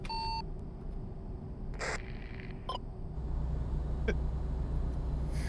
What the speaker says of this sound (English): you mean the beep beeps of the radio?